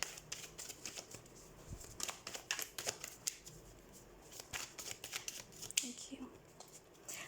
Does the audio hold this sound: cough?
no